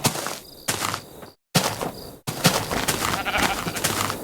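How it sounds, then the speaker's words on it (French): Sheep bleats from a horror-themed Minecraft mod called The Broken Script, heard as several short loud calls with brief gaps, mixed with game sounds and soft footsteps. "Un mouton!"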